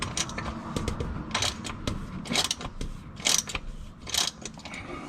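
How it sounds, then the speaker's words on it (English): A 3/8 socket ratchet loosens the oil drain plug on a Porsche Cayman 987 during an oil change, giving close metallic clicking and ratcheting strokes in irregular bursts, with no talking. "So you just use your 3/8 socket, connect it, make sure you got your drain can close enough to catch it, and just loosen it up"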